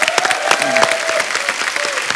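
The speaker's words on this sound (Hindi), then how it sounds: "इनके लिए जोरदार तालियां।" A studio comedy-show audience applauds warmly for Pragya Kapoor, a short burst of crowd clapping with a faint voice and brief musical tone beneath.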